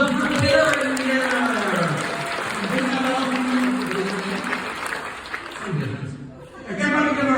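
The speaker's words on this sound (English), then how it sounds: "everybody give her a big round of applause for Meyer in here." Audience at a church fellowship event claps and cheers for a woman called onstage, with steady applause mixed with laughter and chatter throughout.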